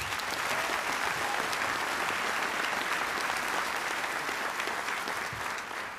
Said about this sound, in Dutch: Geef ze nog één keer een groot applaus.